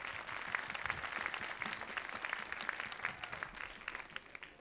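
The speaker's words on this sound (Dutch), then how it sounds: "een applaus" Audience applause for an orchestra at a Sinterklaas circus-themed stage show in Tiliander, a dense, steady wash of many hands clapping that carries on throughout without a break.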